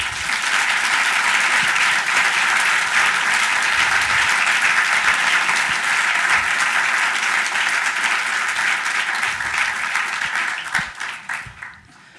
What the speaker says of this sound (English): A big round of applause for our phenomenal board, please.